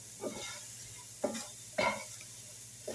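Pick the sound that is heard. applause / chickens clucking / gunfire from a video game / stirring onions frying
stirring onions frying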